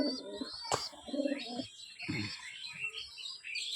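A pigeon in a loft gives soft coos and chirps close by, with other bird calls and some background noise around it.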